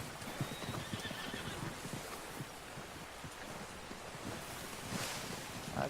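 A horse in the video game Red Dead Redemption 2 whinnies and neighs while hooves clip-clop steadily close by, with a windy outdoor ambience running throughout.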